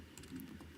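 Quick typing on a computer keyboard ending with a press of the enter key, a few soft close clicks, faint and brief, with no talk.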